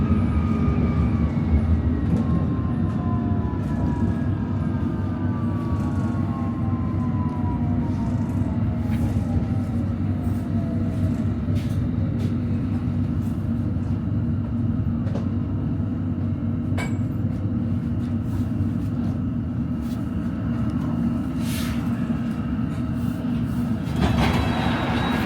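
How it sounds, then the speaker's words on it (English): A London Underground Metropolitan line all-stations train to Watford runs steadily at Euston Square, giving a loud continuous rumble with a faint rising and falling whine throughout. "This is an all-station Metropolitan line train to Watford."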